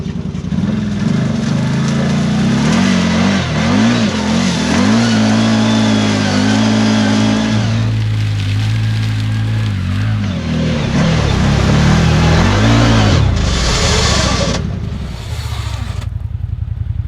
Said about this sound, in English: That slipped between gears and I'm all the way in low.